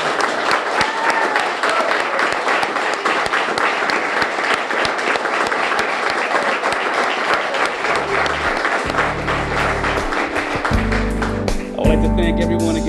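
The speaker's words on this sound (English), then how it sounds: "please join me one more time for applauding and officially congratulating our 4 newest police officers" Audience applause at a New Bedford Police Department swearing-in ceremony for four new officers: sustained, dense clapping from a crowd, steady throughout, with some low tonal sound appearing near the end.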